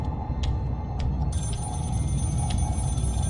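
A telephone rings in the Scream video game demo, a bright trilling bell repeating in short bursts over a dense, steady low background rumble.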